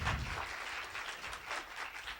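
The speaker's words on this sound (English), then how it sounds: "give them a big round of applause" An audience at Illinois College applauds IT staff with a steady, dense patter of clapping. It holds at an even level for the whole stretch, with no voices over it.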